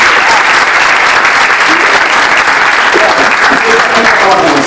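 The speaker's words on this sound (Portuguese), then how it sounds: "Muito aplauso." Loud, continuous applause from a theater audience at a stage show, dense and unbroken, with some voices mixed into the clapping.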